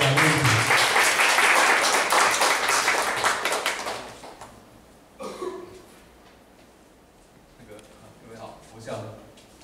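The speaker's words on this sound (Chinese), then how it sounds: "我们就掌声欢迎李建宏老师来跟大家聊一聊。" An audience at a talk applauds loudly for about four seconds to welcome a speaker, then the clapping fades into quieter room noise and brief speech.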